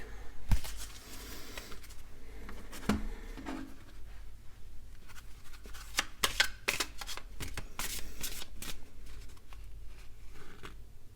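A deck of tarot cards being shuffled by hand, soft close riffles and slides in quick irregular bursts, fairly quiet with sharper snaps now and then and no talking.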